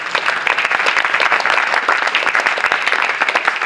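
A church congregation applauds steadily, a dense, loud wash of many hands clapping that holds at an even level throughout, with no voices on top.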